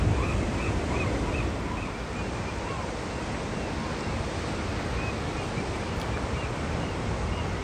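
Ocean surf rolls onto a beach in a continuous, broad hiss and wash, faint to moderate in level, with wind buffeting the microphone and a few distant high calls, likely birds, over the noise.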